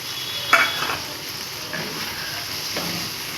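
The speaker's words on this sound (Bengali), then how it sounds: "এবারে আমি যে কাজু বাদাম আর এটা পেস্ট করে রেখেছিলাম পোস্তটা, সেটা আমি তেলের মধ্যে দিয়ে দিচ্ছি" Cashew and poppy seed paste fries in oil over a low gas flame while a utensil stirs it, soft sizzling with a few scraping clinks against the pan, close and without talk.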